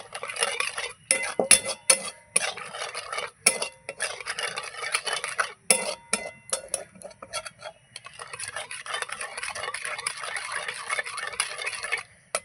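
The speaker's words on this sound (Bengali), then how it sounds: "এবার নাড়াতে থাকবো।" A spoon scrapes and clinks steadily around a pan while sugar is stirred into gujiya filling, a continuous close scratching rhythm with no talk.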